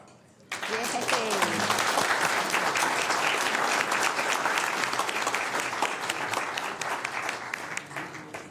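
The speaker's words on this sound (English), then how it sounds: "All right, now we can all clap." Applause fills a board of supervisors meeting, a dense, steady clapping from the assembled room that starts abruptly, holds loud for several seconds, then thins slightly toward the end.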